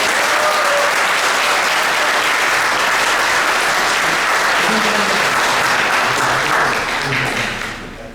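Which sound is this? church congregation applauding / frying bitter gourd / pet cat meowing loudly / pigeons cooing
church congregation applauding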